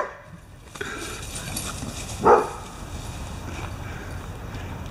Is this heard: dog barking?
yes